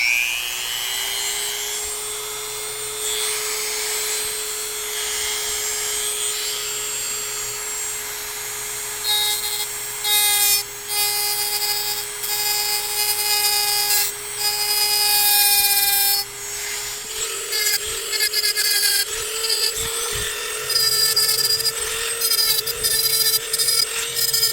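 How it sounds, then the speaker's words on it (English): A Dremel rotary tool whines at a steady high pitch while grinding a CNC 3414 propeller, its tone dropping and turning choppy as it bites into the prop tongue, close and loud with no talking. "So I'm just going to take my Dremel."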